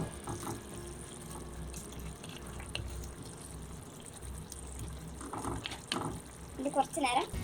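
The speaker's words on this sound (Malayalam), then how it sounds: "നമുക്ക് വെള്ളം കുറവാണെന്ന് തോന്നുവാണെങ്കിൽ അതിലേക്ക് കുറച്ച് ചൂടുവെള്ളം കൂടി ആഡ് ചെയ്യാം" Hot water is poured into a simmering fish curry, a soft splashing gush that runs steadily under a person speaking, with louder clattering near the end.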